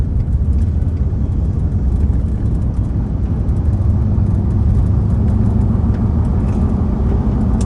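A car drives through city streets in Lexington, Kentucky, toward downtown, heard from inside as a loud, steady road rumble and engine drone with no voices.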